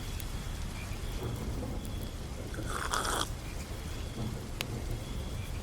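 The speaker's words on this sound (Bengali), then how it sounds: "আকাশে কালো মেঘের গর্জন ও বৃষ্টির শব্দ" Steady rain falls at night with a distant rumble of thunder rolling in midway, soft and ambient without voices.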